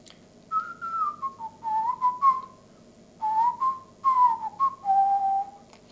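A person whistles a short melody by mouth during a seminar demonstration with a score-following program, the phrases clear and near, with gliding pitches and brief pauses between them, no talk.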